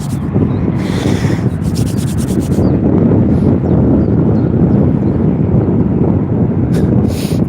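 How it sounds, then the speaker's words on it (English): Gusting wind buffets a phone microphone at an airport while a tripod is caught and knocked over, a loud rushing roar with scraping knocks and clatter on top, close and continuous. "the wind's kind of just caught the tripod and sent it flying"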